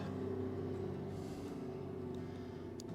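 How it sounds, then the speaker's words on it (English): Trucks passing nearby an RV, a faint, steady low engine rumble and drone without any talk. "Noisy trucks around here, I swear."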